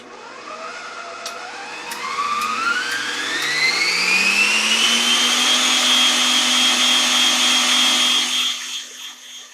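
Nurxiovo stand mixer running with its whisk attachment, the motor whine climbing steadily in pitch as it speeds up, then holding a loud, steady drone before easing off at the end.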